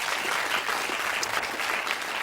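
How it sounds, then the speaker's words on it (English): Studio audience at a Blockbusters TV quiz show applauds in a dense, even burst of clapping throughout, close and loud. "Another round of applause, please, as she goes back to her seat"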